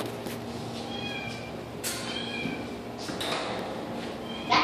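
A kitten at a county humane society animal shelter meows several times in short, high, fairly close calls over a quiet room hum, with a soft rustle near the end.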